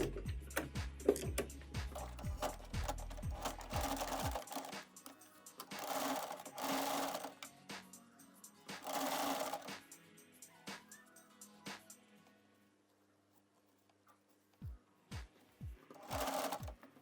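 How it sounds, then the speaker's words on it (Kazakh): A sewing machine topstitches a cradle strap tie in several bursts of rapid mechanical whirring, separated by pauses, with a few single clicks of the needle near the end; close and without talk. "Үстінен бастырып тігіс жүргіземіз"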